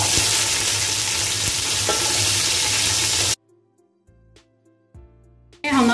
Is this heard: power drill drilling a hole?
no